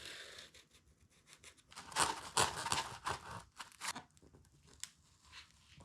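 Knife sawing through a plastic roof mount to widen a hole for a roof rack, giving close crunching, tearing scrapes that build to a loud stretch of cutting in the middle, then ease off into lighter strokes.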